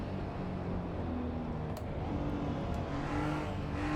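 Porsche race car in Assetto Corsa EVO on the Suzuka short east course, its engine droning steadily with rising pitch as it accelerates, a constant mid-level game engine tone with no voice over it.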